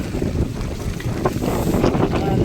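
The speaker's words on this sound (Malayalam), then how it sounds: "കാറ്റിൻ്റെ സൗണ്ട്." Strong wind blowing outdoors in a German town, buffeting the microphone in a continuous low roaring rush with gusty swells and no voices.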